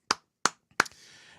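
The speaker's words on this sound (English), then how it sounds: "We all give a round of applause to Emily." Three sharp, separate hand claps ring out close by, spaced roughly evenly, followed by a low steady hiss with no voices.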